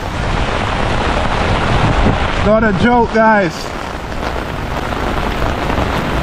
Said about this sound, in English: this is what it's like when it rains here in Colombo